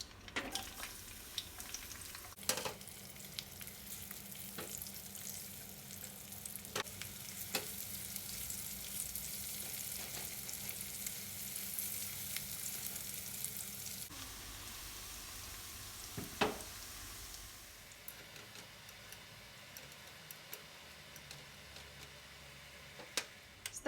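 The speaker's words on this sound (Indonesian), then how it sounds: "Bawang putih dan bawang merahnya digoreng." Garlic and shallots frying in cooking oil in a pan, a steady close sizzle throughout with occasional ticks and stirring clinks, the hiss easing partway through.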